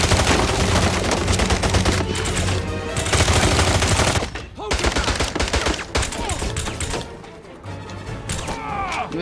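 Gunfire in James Bond: Blood Stone: loud, dense bursts of automatic weapon fire blaze almost continuously, with brief lulls and mechanical clatter mixed into the chaotic firefight.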